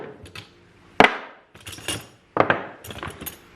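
Metal clamps, including C clamps and small mini clamps, clink and clatter as a hand rummages through a bin from an auction mystery box, with sharp bursts separated by quieter shuffling.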